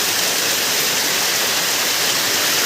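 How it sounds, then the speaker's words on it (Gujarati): Heavy monsoon rain pours down in Methala village, a loud, dense, unbroken hiss of downpour close by with no voices. "ફૂલ અત્યારે છે ને વરસાદ ચાલુ છે."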